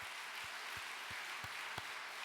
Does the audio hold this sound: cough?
no